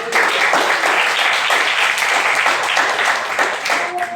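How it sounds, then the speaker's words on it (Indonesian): Classroom applause after a student presentation, a dense, steady wash of many hands clapping together for about four seconds, loud and close with no talk over it. "Baik, tepuk tangan."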